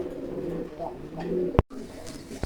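A pigeon in a cage coos in low, rolling, throaty calls close by, with a sharp knock near the end.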